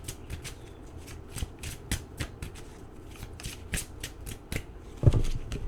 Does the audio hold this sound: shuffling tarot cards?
yes